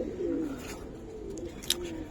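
Female Giribaz coloring pigeon cooing softly at close range, a low throaty burble over a quiet, faintly noisy background, with a small click near the end.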